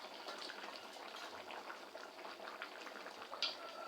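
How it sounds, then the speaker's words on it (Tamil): Village-style chicken curry bubbles steadily in an open pot, a soft continuous simmering fizz with scattered pops, close and moderately quiet, with no talk. "குழம்பு நல்லா கொதிச்சுட்டு இருக்குதுங்க."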